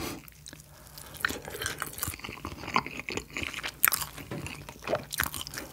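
Crunchy bites and chewing of Cheogajip Korean spicy yangnyeom fried chicken drumsticks and boneless Cheongyang-pepper supreme chicken, close-up, loud and wet, with irregular crisp crackles and squishy mastication and no talk.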